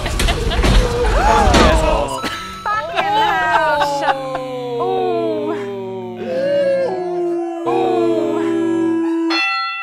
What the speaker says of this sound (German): Es ist der traurigste Hund auf der ganzen Welt.